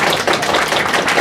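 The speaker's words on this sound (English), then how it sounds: "Round of applause." Audience applause at a panel event: a steady, dense wash of many hands clapping, loud and continuous for about a second with no voices over it.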